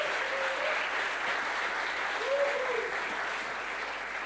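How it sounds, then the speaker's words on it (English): An audience at the ETHBerlin hackathon closing ceremony gives a big, steady round of applause for an award winner, sustained dense clapping that holds at an even level throughout. "Big round of applause."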